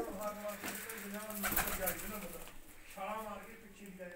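Pet pigeons kept by a kabaddi player coo in soft, repeated low rolling calls, fairly close, with someone talking over them and a brief burst of noise midway.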